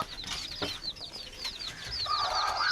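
Hens with small chicks cluck and cheep close by, with rapid high-pitched chirps repeating throughout and a fuller clucking call near the end.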